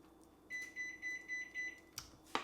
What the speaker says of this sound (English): It's my oven dinging.